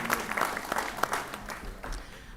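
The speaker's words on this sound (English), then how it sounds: "let's give them a big round of applause" Scattered clapping from a small crowd at a regional economic summit, a steady patter of hands with a few sharper claps standing out, moderately loud.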